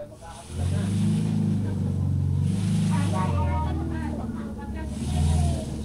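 A Volkswagen car drives past close by, its engine a steady low rumble that swells and fades across the clip, heard alone with no talking.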